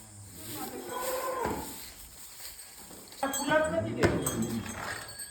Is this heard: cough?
no